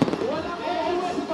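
Fireworks display bursting over Metro Manila on New Year's, a dense crackling wash of distant explosions and pops filling the short stretch, with a voice speaking faintly beneath the noise.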